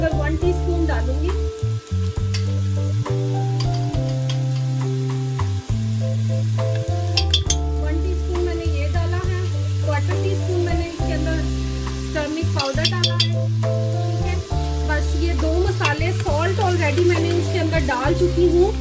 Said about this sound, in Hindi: इस इस मसाले को अच्छे तरीके से भूनना है।